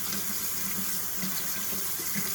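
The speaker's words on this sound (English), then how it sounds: "Rinsing it off with as much soap as you can off" A kitchen sink tap runs steadily while model kit parts are rinsed under it: a close, continuous stream of water splashing into the basin.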